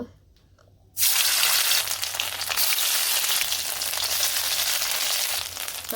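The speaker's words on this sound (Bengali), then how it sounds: "তেল দিয়ে দিছি তেলের মধ্যে একটা করে দিয়ে দিব" Pieces coated in turmeric and chili powder drop into hot oil. After a brief quiet moment the oil bursts into a loud, steady sizzle that keeps crackling to the end.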